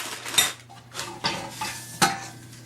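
Sections of metal stove pipe, each flared at one end, are handled and fitted together for a winter camp stove. Several close, sharp metallic clanks and scrapes are spaced through the stretch, with no talk.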